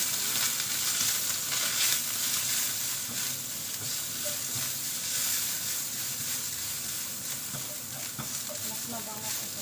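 Steady, loud sizzling of turnip frying in hot oil in a pan, a continuous crackling hiss with occasional stirring noises.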